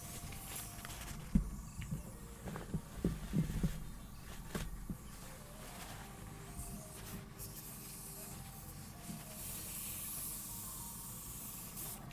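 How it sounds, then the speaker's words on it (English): A cheap airbrush sprays orange paint in a steady, soft hiss that runs through the whole stretch. A few brief knocks and taps stand out early on, and the hiss swells a little toward the end. "Just clean out my airbrush now."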